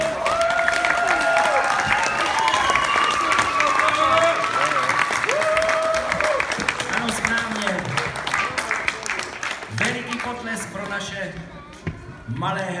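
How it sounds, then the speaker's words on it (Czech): Audience applause at a children's theatre performance, dense, steady clapping from a crowd that fades toward the end, with voices speaking and calling out over it. "Malé herce, veliký potlesk pro představitele Písmivce."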